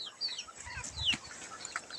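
Chickens clucking and chirping nearby in a quiet yard, a few short scattered calls with a soft flutter, no talking.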